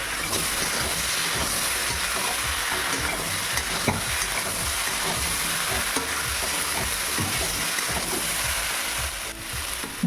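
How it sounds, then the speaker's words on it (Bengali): Ground spice paste and tomato for a kohlrabi and prawn curry are stir-fried in a pan, giving a continuous close sizzle and hiss with repeated scraping stirs throughout. "বেটে রাখা মশলা টমেটো আমি দিয়ে দেবো দিয়ে একসাথে কষিয়ে নেব"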